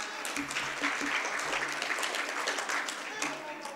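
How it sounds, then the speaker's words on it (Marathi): An audience claps steadily at a Gadge Maharaj birth anniversary event, a continuous patter of many hands at moderate distance, with faint voices in the background. "शाबाश, टाळ्या वाजवायला."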